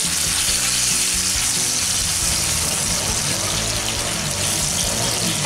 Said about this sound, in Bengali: এখন এটাকে আরো কিছুক্ষণ আমি ফ্রাই করব।